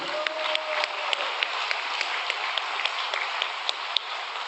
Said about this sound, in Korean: 감사의 박수 한번 올립시다.